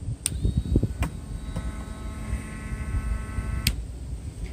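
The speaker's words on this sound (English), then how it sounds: "And the pump is really not that loud." A Harbor Freight $8.99 liquid transfer pump running, a fairly quiet steady electric whine with a faint tonal hum, interrupted by a few sharp clicks and knocks.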